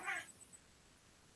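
A cat meowing once, a short, fairly close cry at the start that fades into quiet room tone.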